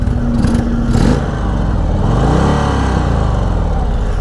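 Indian Sport Chief motorcycle with an air-cooled engine in sport mode, its exhaust note rumbling loud and close as the rider accelerates, with a rising revving pitch and a brief whine early on.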